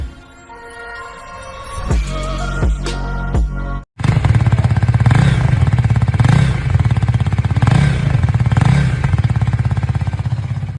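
A 2024 Husqvarna Vitpilen 250 motorcycle's single-cylinder engine runs close by, with a few short throttle blips, a sharp cutoff, then a steady, loud idle pulsing in a regular rhythm.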